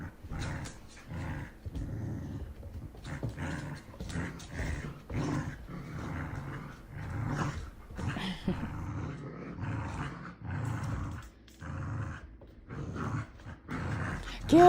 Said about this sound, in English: there's a new dog in the house. So it's a little bit of a snark storm going on here